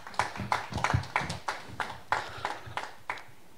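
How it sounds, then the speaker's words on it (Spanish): Scattered clapping from a small audience at a thesis poster award ceremony, a steady run of separate claps rather than a full roar, close and moderately loud, with no voices. "a quien le vamos a brindar un fuerte voto de aplausos"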